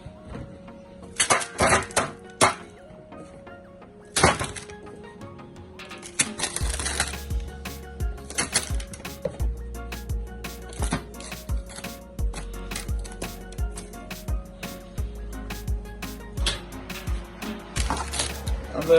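A metal baking sheet clanks and rattles in sharp, close bursts as it is handled and slid into a hot oven, followed by a steady low hum with further scattered knocks.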